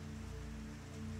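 Steady rain patters on a surface on a rainy day in New Orleans, a soft continuous hiss with a low hum beneath it, faint and unbroken throughout.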